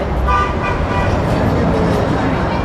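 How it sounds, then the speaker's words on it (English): Car horns honk on a street in Yuma, a couple of short toots standing out early over a steady, loud wash of passing road traffic. "They were honking at my coffee."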